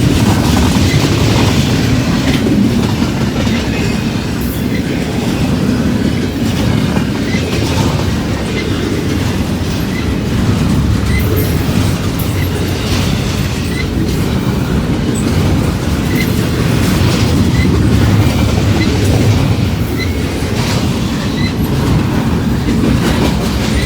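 A long intermodal freight train rolls past near a county road crossing, a loud continuous rumble with rhythmic clickety-clack of wheels over rail joints and occasional squeals, sustained for nearly half a minute with no voices.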